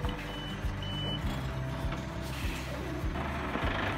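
Scania 8x8 G490 truck hauling 70,500 pounds of mangoes, its heavy engine rumbling steadily while a repeated beeping sounds at regular intervals.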